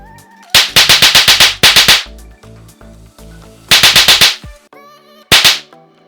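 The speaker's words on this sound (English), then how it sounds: "this firecracker is not only good from a visual perspective, but also an audio perspective" Firecracker sound effect from a Halloween yard haunt prop: loud, close bursts of rapid cracking pops in three volleys, a long string, a shorter run, then a single burst, with no talking.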